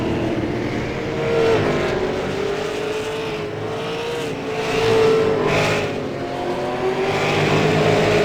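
Race cars in iRacing's SRST Pro Late Model Series at Lanier National Speedway run down the front stretch near the end of a race, a steady loud engine drone that swells twice as a pack passes.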